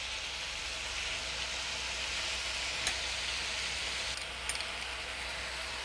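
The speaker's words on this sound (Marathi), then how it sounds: "आता कांदा आणि टोमॅटो छान मिक्स करून घेऊया" Chopped onion and tomato fry and get stirred in a pan for a sweet-and-sour chutney, making a constant broadband sizzle with faint scraping clicks from the spoon now and then. Nobody speaks.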